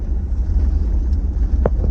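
A 1956 Mercury Montclair engine runs warm at operating temperature, giving a steady low rumbling idle close by. A brief higher-pitched squeak breaks in near the end.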